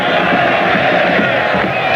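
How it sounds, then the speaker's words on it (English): A packed football stadium crowd roaring and chanting olé during a 1999 Copa América match between Argentina and Ecuador, a dense, continuous wall of massed voices with no break. "Ole ringing around the stadium with every touch of the ball."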